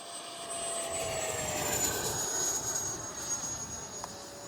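An FMS 70mm Viper RC jet (15th Anniversary Edition) flying at full throttle into the wind, a steady, fairly faint whining roar with a thin high tone sliding slowly as it passes at a distance.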